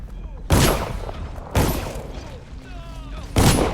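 Gunfire in the stealth game Dishonored: three sharp, loud shots spaced about a second apart, each ringing out with a reverberant tail.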